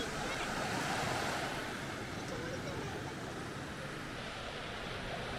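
Sea waves on a Konkan beach roar in a continuous, dense wash of surf, with wind buffeting the microphone throughout.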